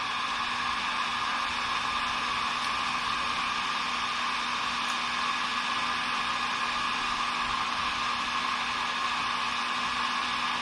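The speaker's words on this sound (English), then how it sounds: "Let's turn off the heat gun." A heat gun heats a kite's wing inflation valve so it can be peeled off, giving a steady, loud, continuous blowing whir with a constant hum and no pauses.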